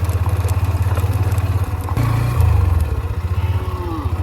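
A motorbike running steadily at mid revs during a ride to Jaflong, its engine drone loud and continuous with a brief rise in pitch midway, no talking.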